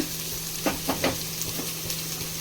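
Chopped garlic frying in a pan for an Indian broad bean and egg stir-fry, a steady close sizzle with a few soft stirring scrapes, no talking.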